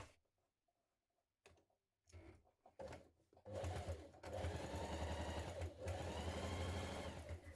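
A home sewing machine runs a short-length stitch around a marked rectangle on a cross-body bag, starting with a few brief bursts and then stitching steadily and loudly for several seconds.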